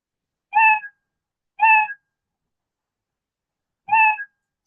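Three identical meows from a cartoon cat sound effect triggered in a Scratch program, each short and clear with silence between, the third coming after a longer pause.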